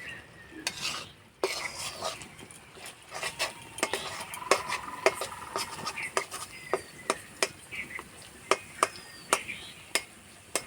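Raw peanut pakoras frying in oil, stirred with a slotted spoon: a low sizzle under repeated sharp metallic scrapes and taps against the pan, coming in a steady rhythm.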